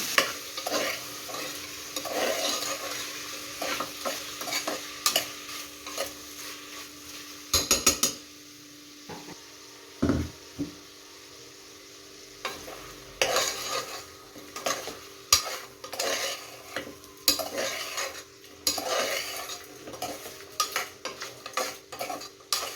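Ingredients for a mutton kheema ball sambar fry and sizzle in a pan while a spoon scrapes and clatters against the metal in irregular bursts, with quieter gaps between the stirring strokes.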